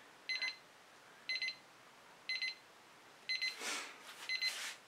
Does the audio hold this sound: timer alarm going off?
yes